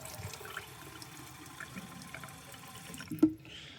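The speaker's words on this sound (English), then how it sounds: "we're going to want to fill this with water" Water runs into the container of an O'Sweesh water flosser as a faint, steady trickle, with one brief sharp click near the end.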